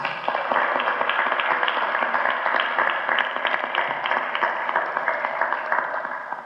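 A seated audience at a panel discussion applauds to welcome a new speaker, producing a dense, even wash of many hands clapping that holds steady for several seconds.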